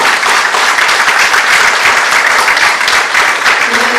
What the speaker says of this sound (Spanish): también quiero pedir un fuerte aplauso para Toto Nadalich.